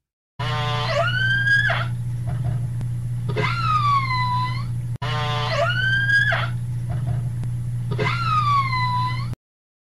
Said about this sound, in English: Killer whale.